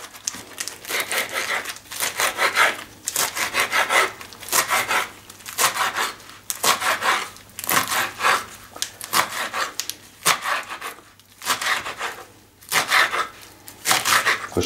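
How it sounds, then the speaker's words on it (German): A knife slices through fresh chard leaves and stems on a board in repeated rhythmic bursts, each cut a crisp crunching chop followed by short pauses, close and fairly loud with no talk. "Jetzt schneiden wir unseren Mangold auch in kleine Streifen."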